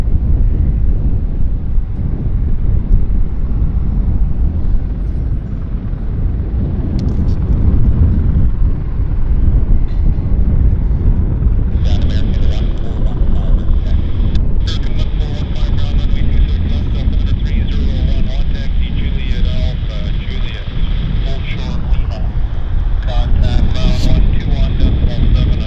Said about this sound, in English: This aircraft, this heavy, is heading to Montreal as flight